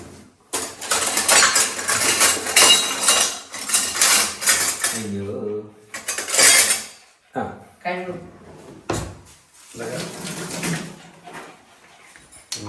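A metal ladle scrapes and clinks against cooking pots while buttermilk curry is prepared in a home kitchen, with repeated close clattering bursts of utensils alongside people talking nearby.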